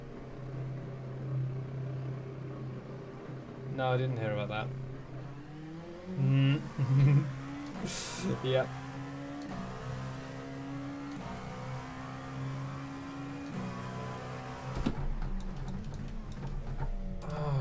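A race car engine in a racing video game at Monza revs up and down repeatedly with rising and falling pitch, mixed with game effects while a person briefly speaks over it.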